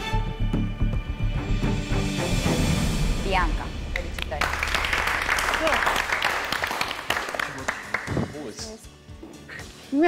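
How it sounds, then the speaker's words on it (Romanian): Scattered applause for Simina on the Romanian reality show Puterea dragostei, steady clapping from a group that runs under overlapping voices and crosstalk throughout. "Te aplaudă, Simina."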